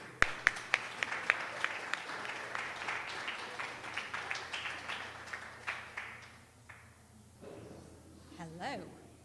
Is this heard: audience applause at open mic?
yes